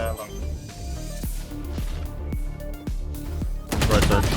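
Rapid gunfire in an online shooter game, a string of sharp close shots in an uneven rhythm that ends in a louder burst, heard beneath excited talk.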